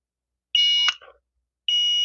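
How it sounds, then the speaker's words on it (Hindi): A multimeter in continuity mode beeps while probing a copper-wire coil: a steady high tone lasts about a third of a second, a brief rustle follows, then a second beep starts and carries on, with no talk. "ये देखिए कंटिन्यूटी मोड में इस तरीके से बीप ये मारेगी।"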